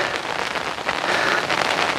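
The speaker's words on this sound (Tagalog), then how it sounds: "Kailang umuulan, lumakas." Heavy rain pours hard onto a surface in a dense, steady hiss with scattered louder splatters, close and continuous with no voices.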